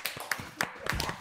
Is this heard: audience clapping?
yes